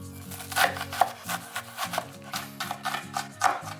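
A knife chops roughly through onion on a cutting board, a steady run of close, crisp thuds in uneven bursts with no talking.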